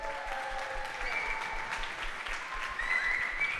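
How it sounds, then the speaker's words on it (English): Crowd at an amateur MMA event applauds the two fighters, steady dense clapping with scattered whistles and cheers rising near the end, loud and continuous. "I'm hoping the crowd at the end will give both these 2 young fighters a massive, massive round of applause."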